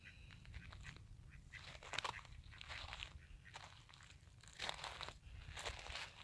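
Ducks squabble and flap in scuffling bursts as a seagull attacks them to steal their food, with noisy crunchy rustles coming and going at moderate distance.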